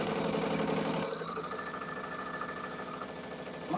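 A sewing machine stitches a quilt block with a fast, steady mechanical whir. The stitching runs loud for about a second, then continues quieter and more muted.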